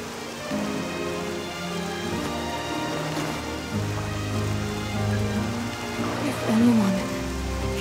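Steady rain falls in the Octopath Traveler II role-playing game, a continuous hiss beneath sustained musical tones and an occasional voice, holding an even level throughout.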